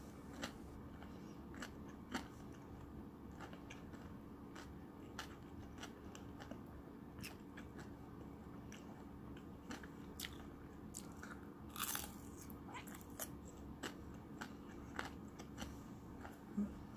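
Crunchy cheese-fried lotus root, a simple Japanese home-style snack, bitten and chewed in a quiet room; faint, crisp crunches recur irregularly with no talking.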